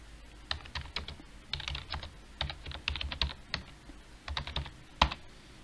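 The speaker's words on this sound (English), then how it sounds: "we need to type the question here." Close, crisp clicking of computer keyboard keys in quick irregular runs with short pauses and one sharper final tap, no voices.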